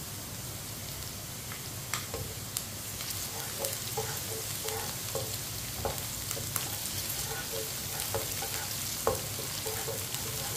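Okra with finely chopped green chillies sizzles steadily in a hot pan, a constant close frying hiss broken by scattered crackles and occasional light stirring scrapes.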